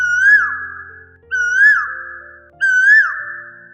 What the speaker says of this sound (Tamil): இது ஒரு குயிலினுடைய சத்தம்.